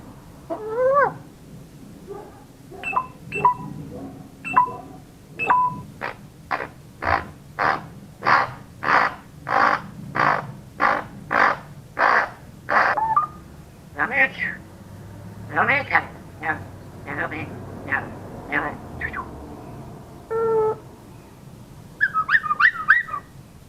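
A grey parrot mimics electronic beeping with a run of about a dozen evenly spaced, tonal beeps. Its own squawks and speech-like chatter come before and after, all close up.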